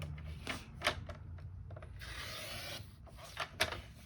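A paper trimmer slices through a designer series paper layer for a Christmas card, giving soft close rubbing and rasping strokes with a longer continuous scrape in the middle and a few sharper clicks, quiet and alone.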